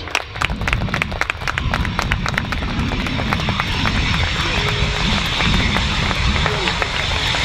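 Loud, sustained roar of a German Air Force Eurofighter Typhoon EF-2000 jet during a flying display at RIAT 2024, a broad rumble filling the air continuously while an announcer's voice carries over it.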